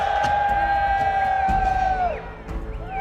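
An arena crowd at the Rocket League World Championship roars and whoops loudly, a dense, sustained cheer with a long held shout riding on top, dipping briefly before swelling again.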